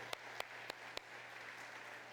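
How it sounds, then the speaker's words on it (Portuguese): A church congregation applauds softly in the distance, a faint even patter under a steady low hum, punctuated by four sharp, louder claps spaced evenly at the start. "Salve de palmas para Jesus, né?"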